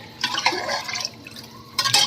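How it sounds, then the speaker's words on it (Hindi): Water splashes into a pan of frying mutton for soup in bursts of pouring and sizzling hiss, easing off midway before a second loud gush near the end. "अब डाल दिया है फिजा ने पानी"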